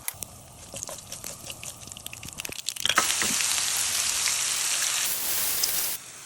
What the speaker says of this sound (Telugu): ఆయిల్ వేడైన తర్వాత తాలింపు కరివేపాకు, జీలకర్ర, ఆవాలు వేసుకొని ఫ్రై చేసుకోవాలి.